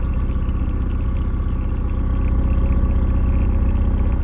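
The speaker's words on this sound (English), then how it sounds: "Listen to this engine, guys. That is smooth." Car engine idling at a Copart salvage auction, a steady, smooth low rumble running continuously and close, with no talk over it.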